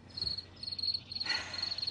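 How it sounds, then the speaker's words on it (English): Crickets chirp in a hotel bed, a steady high-pitched trilling in repeated bursts, close and clear over a low background hum. "It was a bed full of crickets."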